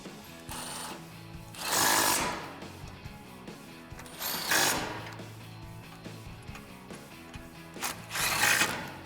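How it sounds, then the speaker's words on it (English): A ratchet with a 15 mm socket on an extension tightens bumper bolts on a 2014-2015 Silverado 1500, clicking in three separate bursts with quiet pauses between them. "Grab your 15 socket. I'm going to use an extension and tighten them down."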